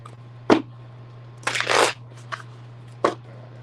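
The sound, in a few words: shuffling tarot cards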